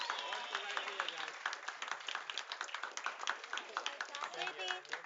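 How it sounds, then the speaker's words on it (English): An esports tournament crowd claps steadily for a finals competitor, a dense patter of many hands continuing throughout with voices mixed in underneath. "give Havoc a round of applause, guys"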